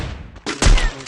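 Pistol shots in a shooting video game crack in a quick close pair of sharp, loud bangs within about a second.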